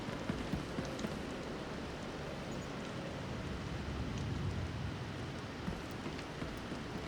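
Steady in-game rain pours in Star Wars: The Old Republic, a dense, continuous wash of hiss and patter that holds at an even level throughout, with no voices.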